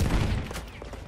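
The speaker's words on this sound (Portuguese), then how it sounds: "Tá trocando tiro comigo aqui, ó." Rapid gunfire exchange in the video game Battlefield 1, a short dense burst of overlapping shots at close range.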